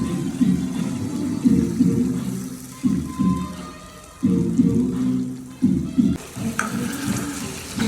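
A cornflour and water mixture is poured into chilli chicken in a hot pan, bringing loud, steady sizzling with bursts of stirring and scraping close by.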